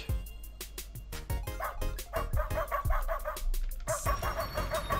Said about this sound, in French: D'accord, j'aboie après les objets.